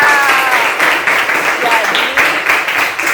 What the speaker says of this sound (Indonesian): Ya, tepuk tangan untuk Asih